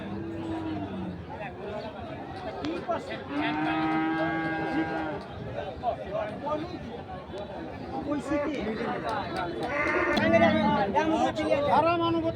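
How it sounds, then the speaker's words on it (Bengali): Cattle and bulls moo repeatedly, some close and some farther off, over the steady chatter of a crowd at a busy livestock market in Chittagong. "এখানেও আরেকটি গরু দেখছি"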